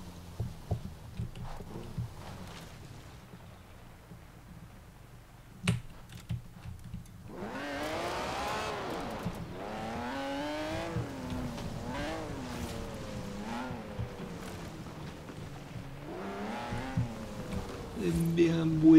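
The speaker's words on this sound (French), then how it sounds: "J'aime bien le bruit des voitures." Car engines and tires in the racing video game Forza Horizon 4: a faint low rumble at first, then a steady engine drone that rises and falls in pitch as the car accelerates and shifts.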